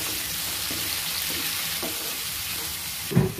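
Mushrooms stir-fry with chili and garlic in a pan, giving a soft, steady sizzle with occasional light scrapes of a utensil and a louder clatter near the end.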